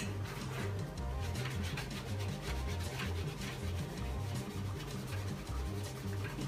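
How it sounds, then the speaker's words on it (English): Steady hand rubbing and polishing of chalk-painted furniture with a cloth, a close, continuous rhythmic scuffing with quick repeated strokes throughout, fairly quiet and with no talk. "You can really see it polishing up"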